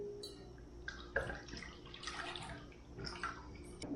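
Buttermilk pours into a bowl in a kitchen, a soft, close liquid splashing and glugging in short uneven bursts over quiet background noise.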